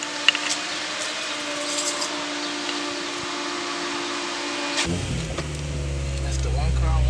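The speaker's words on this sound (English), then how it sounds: "Let the fan do what it do." Radiator cooling fan on a Honda Integra DC2 with an LS-VTEC build spins with the key on and the engine off; a steady hiss-like whir holds, then a deeper rising hum joins partway, with people talking nearby.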